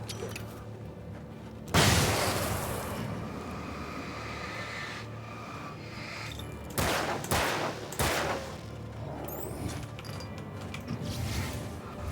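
Gunfire in the horror action game Alan Wake: a sharp loud shot, then a sustained noisy rumble with several more distinct bangs in a cluster midway, amid constant background ambience.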